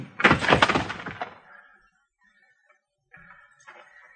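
A gunshot rings out in a Western radio drama, a loud broadband crack with a rumbling tail lasting about a second, followed by quieter, sparse sounds afterward.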